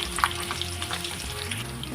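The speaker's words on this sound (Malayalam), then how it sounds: "അപ്പോൾ അതിൻ്റെ ഇടയിൽ നമുക്ക് ഉള്ളി ഒന്ന് വറുത്തെടുക്കാം." Onions frying in a pan for chicken biryani masala, a steady close sizzle with faint stirring scrapes and no voices.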